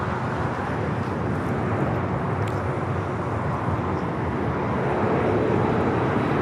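An airliner rolls for takeoff on runway 25 Right at LAX, a broad, steady roar from some distance that swells slightly toward the end, with no voices.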